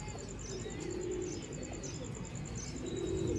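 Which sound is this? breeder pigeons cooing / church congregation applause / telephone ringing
breeder pigeons cooing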